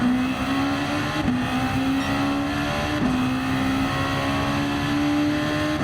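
Honda NXX 2016 concept race car in a racing video game at Suzuka Circuit, its engine holding a loud steady high drone from the start with brief dips at gear changes, continuous throughout.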